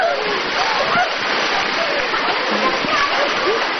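Rushing river water splashes and pours over rafts on a rafting trip in Zhuang country, a dense continuous wash of spray, close and loud, with faint voices mixed in.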